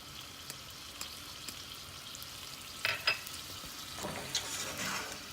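Meat, vegetables, sliced garlic and cumin sizzle quietly in a pot for a Moroccan soup, with a low frying hiss and a few soft scrapes and clatters of stirring.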